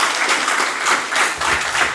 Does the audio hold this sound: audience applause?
yes